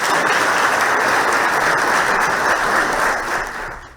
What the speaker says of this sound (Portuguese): uma salva de palmas justa que poderia repercutir aqui por horas ainda